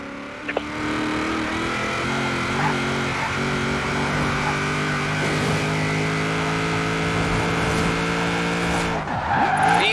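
A car drifts in Forza Horizon 4 with a steady, loud engine drone and continuous tire squeal through the turns, and a brief rise in pitch near the end.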